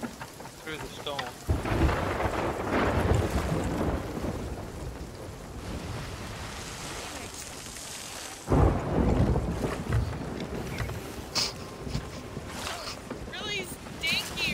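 Rain pours over a Sea of Thieves pirate ship at sea as thunder crashes loudly in two heavy rumbling bursts, with the downpour hissing between them and players talking faintly underneath.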